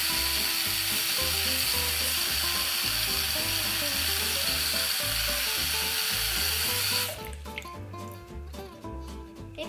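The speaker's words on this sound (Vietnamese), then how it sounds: "Khi mà xào á, nó không có bị chín thành một cục." Food being stir-fried in a pan gives a steady, fairly quiet sizzle for about seven seconds, then cuts off, with rhythmic background music running underneath.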